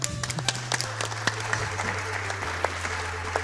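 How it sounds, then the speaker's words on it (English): An audience at a live NES Startropics speedrun event claps in steady, continuous applause, with scattered sharp claps standing out over a low electronic hum. "Please don't clap for that."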